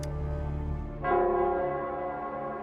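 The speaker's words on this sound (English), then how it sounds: "It's the Nell Squares bell." A large bell tolls in Nell Square in the video game Wuthering Waves, deep ringing harmonics sustaining loudly, then a second strike swells and rings out over a long decay.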